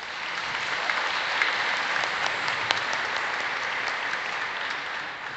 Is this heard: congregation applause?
yes